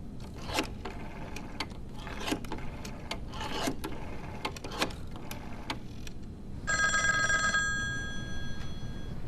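A telephone rings while a call is being returned, with several short mechanical clicks and rings followed by a longer bright trill near the end, and no talk.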